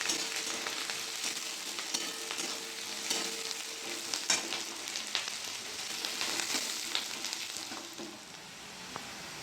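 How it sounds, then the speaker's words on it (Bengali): Chopped onions fry lightly in a pan with whole cumin and bay leaves, giving a soft, continuous sizzle with occasional scrapes and stirs, close and fairly quiet. "পেঁয়াজটা একটু ভেজে নেবো হালকা।"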